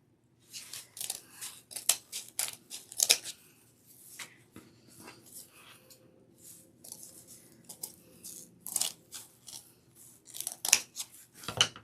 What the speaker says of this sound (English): So I just slide it off and trim them on both sides.